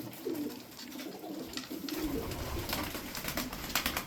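White tumbler pigeons coo steadily in low, rolling calls, close by and continuous, with some flutter and shuffling in the background.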